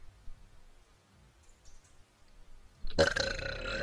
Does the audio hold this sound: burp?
yes